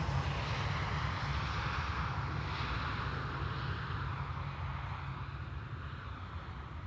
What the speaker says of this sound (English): This is Transavia arriving from Pisa